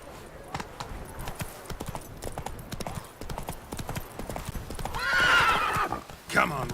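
A horse in The Witcher 3 gallops with a rapid, steady clip-clop of hooves up close, and a loud neigh breaks out near the end over faint speech.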